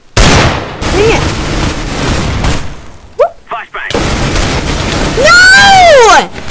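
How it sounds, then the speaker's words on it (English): A flashbang grenade bursts in the blocky shooter game Minestrike, a loud blast followed by a sustained bright ringing tone that sweeps downward, amid other loud in-game gunfire and noise with a brief near-silent gap. "Flashbang."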